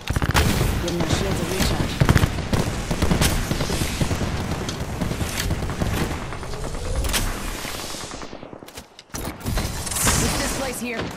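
Rapid gunfire fills a video game squad firefight: dense, continuous bursts of shots and mechanical clatter ring out close and loud, while a voice speaks over the shooting.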